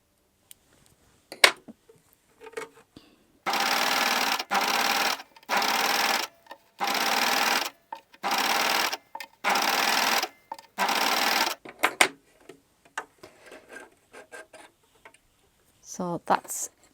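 A new cover stitch machine sews the neckline of a Freya top in six or seven even bursts of fast whirring stitching separated by short pauses, with quiet handling clicks and a voice before and after.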